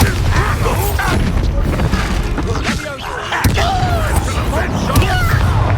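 Spell blasts and magical explosions from Hogwarts Legacy, a dense run of booms, thuds and crashing effects over continuous loud game audio with voices mixed in.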